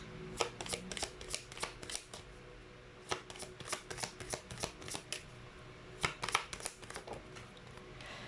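Tarot cards being shuffled, a quick series of crisp riffling bursts and slaps that come in clusters across the stretch, fairly close and alone with no talk.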